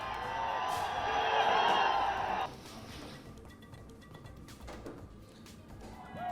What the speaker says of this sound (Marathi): जंतर मंतरवर विद्यार्थ्यांनी डान्स करत साजरा केला आनंद